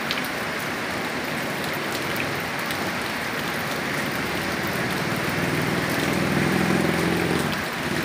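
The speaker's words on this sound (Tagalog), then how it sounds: "Panay ulan yan." Heavy, steady typhoon rain in the Philippines pours down in a dense continuous hiss, drumming on surfaces nearby, with a low rumble swelling briefly near the end.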